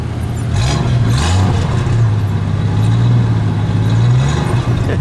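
A 1977 AMC Hornet AMX in stock form with single exhaust runs close by, a loud steady low engine drone that rises and settles a couple of times, without speech.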